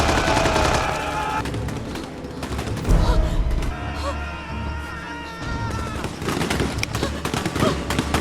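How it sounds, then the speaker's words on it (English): Gunfire rattles in a jungle fight between mercenaries and a tribe: bursts of rapid shots and a heavy boom under a busy mix of music and voices, loud and close. "she follows the sound of gunfire and finds the place where mercenaries are fighting the tribe"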